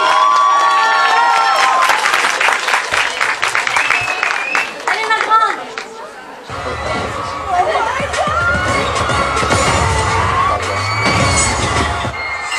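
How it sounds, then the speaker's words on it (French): A crowd at a cosplay contest during a fan convention claps and cheers for a small contestant, loud and close, with shouts and chatter rising through it. Halfway through, a bass-heavy music track starts up beneath the cheering. "on l'applaudit énormément s'il vous plaît"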